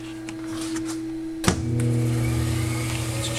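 Motors on a Denford Micromill CNC machine run with a steady hum; a sharp click marks a switch-on midway, after which a louder, fuller motor drone continues.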